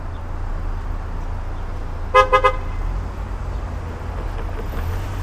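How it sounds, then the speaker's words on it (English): A car horn honks three quick short toots at a waiting Honda on a Toronto street at Bathurst Street, clear above steady low traffic and wind rumble. "So this impatient jackass honked at the Honda there"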